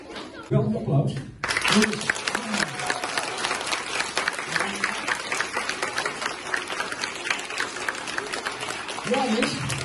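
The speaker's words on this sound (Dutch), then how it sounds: "Wel een applaus." An audience at a children's ribbon award ceremony bursts into sustained clapping after a short lull, and a voice speaks over the dense, even applause.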